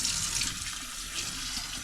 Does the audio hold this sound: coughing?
no